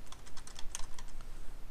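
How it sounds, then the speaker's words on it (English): Fast typing on a computer keyboard, a quick close run of light clicky keystrokes with one sharper tap partway through, over a faint low hum and with no voices. "Got to typing too fast there."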